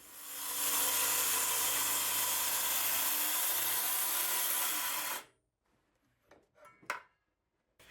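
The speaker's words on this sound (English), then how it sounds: "I measured a center line to rip the board in the direction of the glued up panels" A power saw rips lengthwise through a glued-up teak board, a loud, sustained broadband whine lasting about five seconds before stopping abruptly, followed by a few faint knocks and clatters.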